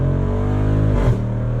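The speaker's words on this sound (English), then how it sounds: "Listen to the snaps, the snarls on the upshift." A 2024 Jeep Wrangler 392 V8 with a manual gearbox revs hard and loud with a deep steady roar, then snarls briefly through an upshift as the pitch drops and settles back into a lower drone.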